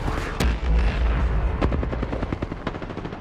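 Gunfire in the Apex Legends video game, a loud opening blast followed by a rapid burst of sharp automatic shots, close and dense with a booming low rumble underneath.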